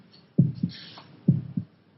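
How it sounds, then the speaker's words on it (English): Two heartbeats, each a soft low double thump, evenly spaced and close, with faint hiss between them. "Can you hear your heart beating?"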